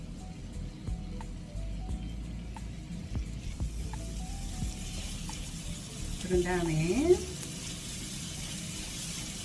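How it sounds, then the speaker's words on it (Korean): Mayonnaise melts in a pan over medium heat for a crispy stir-fried anchovy and nut dish, and the oil begins to sizzle softly and steadily while a voice talks briefly. "마요네즈가 풀어지면서 조금 기름이 끓는 느낌이 납니다."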